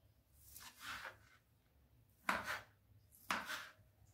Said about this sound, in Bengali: এরকম সাইজ করে আপনারা চিকেনটা কেটে নেবে।